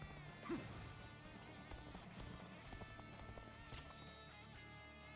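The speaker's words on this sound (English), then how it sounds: "Must remember we have a horse." Galloping hoofbeats from a horse in the battle game Dynasty Warriors: Origins, a steady clip-clop rhythm running under dense battlefield music and effects, fairly quiet with no one speaking.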